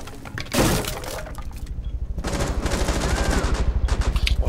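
Gunfire in Rainbow Six Siege on the Border map, opening with a loud crash of breaking glass, then sustained rapid automatic fire building in loudness, close and dominant with no talk.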